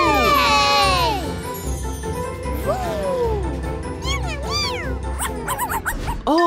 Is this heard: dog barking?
yes